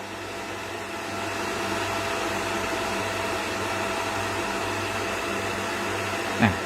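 The cooling fan of a 1200 W power amplifier spins fast with its lid open, a loud, steady whooshing whir with a constant hum, close and unbroken, ending in a brief knock.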